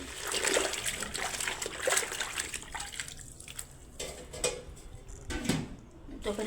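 Colocasia leaves being washed in a basin of water, with steady splashing, sloshing and trickling close by, rising and falling throughout.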